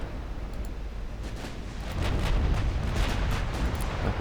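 Torpedoes strike the US light cruiser Fargo in a 1945 naval battle in the game Ultimate Admiral Dreadnoughts, as a loud, continuous low rumble of explosions that swells heavier halfway through, with no talk.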